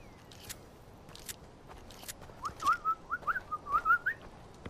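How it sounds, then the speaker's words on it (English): A player whistles in the Far Cry 4 video game: a quick run of short, rising whistled notes about halfway through, heard over quiet outdoor ambience with faint scattered ticks. "I'm trying to communicate with my whistle."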